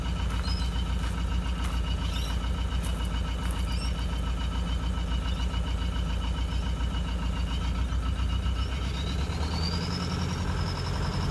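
A car engine with a cracked piston idles in a steady, loud, rough drone, close up and with no talk over it, its pitch changing slightly near the end.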